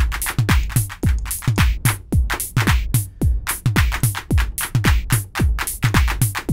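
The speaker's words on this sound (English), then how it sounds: "This clap sound." A noisy clap from a Sonic Charge Microtonic drum synthesizer repeats in a steady, fast rhythmic pattern, each hit short and bright, played alone at a consistent level.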